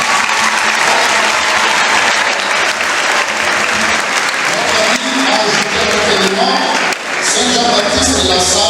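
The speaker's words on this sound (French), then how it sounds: "On peut l'encourager avec nos applaudissements." A church congregation applauds during a feast-day mass for Saint Jean-Baptiste de La Salle, loud sustained clapping filling a large reverberant space for nearly nine seconds, with voices rising faintly beneath it.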